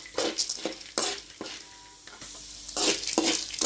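Curry leaves and lentils roast in a pan with irregular scraping stirs and crackling bursts. The sound comes in uneven strokes with short pauses, close and moderately loud, with no talking.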